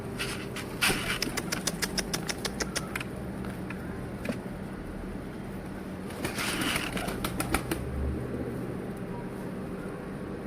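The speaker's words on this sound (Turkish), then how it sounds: "Gelin kuşlarımızı yemleyek." Pigeons, including Arabian pigeons, flap their wings in two bursts of rapid fluttering while being fed wheat outdoors, over a steady engine hum in the background.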